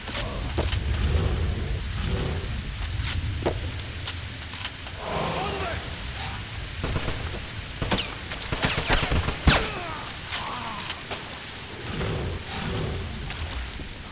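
Gunfire in the shooter game Wolfenstein comes as scattered sharp shots and short bursts over fourteen seconds, set against a dense rumbling game soundtrack with low explosions, and someone talks throughout.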